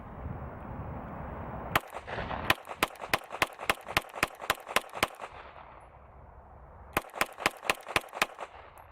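A handgun fitted with an Olight PL Mini Valkyrie 2 weapon light fires a magazine on an outdoor range: sharp, loud reports in a quick run of about a dozen evenly paced shots, a pause, then a second string of about seven more.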